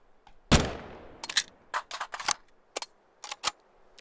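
A FAMAS rifle being reloaded in a video game: one sharp metallic clack, then a quick run of lighter clicks and snaps in small bursts, close and crisp with no voices.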